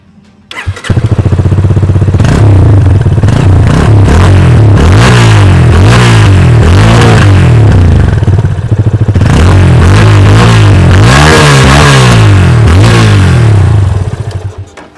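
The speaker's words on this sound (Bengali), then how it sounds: "এবার এই বাইকের এক্সস্ট নোট নিয়ে একটু কথা বলি" A Yamaha FZ25 motorcycle starts up and its exhaust revs repeatedly up and down, loud and close, with rhythmic rising and falling engine swells and no talking.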